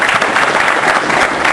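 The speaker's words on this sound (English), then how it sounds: "so let's give Damian a big round of applause." A loud burst of dense audience applause at an evening mobile-marketing talk, continuous close clapping from a room full of people with no voices on top.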